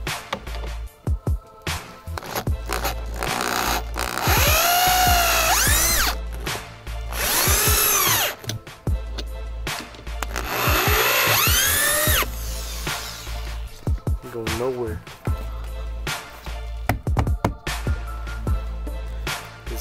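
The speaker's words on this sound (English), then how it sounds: "I got this nice extension here for the drill, so I don't have to do it by hand." A power drill with an extension whirs in repeated bursts, rising and falling in pitch as it drives large bolts into a speaker box, loud and close, with short pauses between runs.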